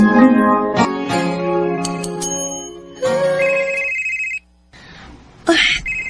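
A telephone rings repeatedly with an electronic ringtone, loud and close, several bursts in a row with brief pauses between them.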